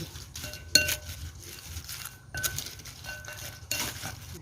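Mushroom larb being tossed with herbs and toasted rice in a bowl, giving soft scraping and a few sharp clinks of a utensil against the dish in short bursts, fairly close.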